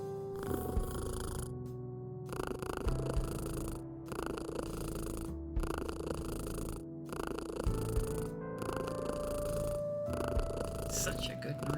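Cat purring while being petted in the Kathy Rain 2 video game, a steady low rumbling purr looping continuously under game music and the occasional voice.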